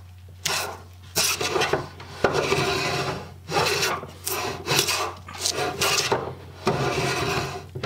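An antique Stanley No. 8 hand plane with a dull blade is pushed over wood in repeated rasping strokes, about seven or eight close, loud scrapes with brief pauses between them and a low steady hum underneath.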